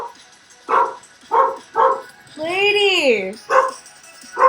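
A pet dog barks in a run of sharp, evenly spaced close barks, broken midway by a long rising-and-falling whine, with a person calling out over it.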